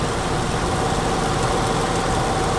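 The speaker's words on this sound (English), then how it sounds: "I'm just listening to the engine and see how it sounds." A convertible's engine idles steadily and close by, a constant low rumble with no talking.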